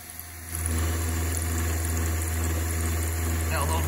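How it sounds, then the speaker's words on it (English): Milling machine cutting 440C stainless steel with a carbide tool, a steady low machine drone with a buzzing vibration that rises in level after a quiet start and holds steady, close by. "Got a little vibration."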